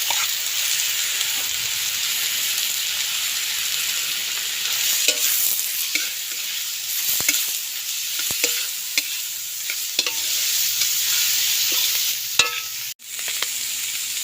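Beef innards with fish sauce sautéing in a pan at an outdoor cook, a steady close sizzle with scattered scrapes and clicks of stirring throughout, and a sharp knock near the end.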